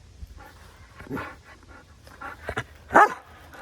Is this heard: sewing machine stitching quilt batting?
no